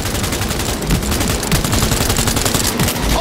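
Automatic gunfire during a car chase in Cyberpunk 2077, with rapid overlapping bursts rattling steadily over a loud engine and road rumble, and no speech.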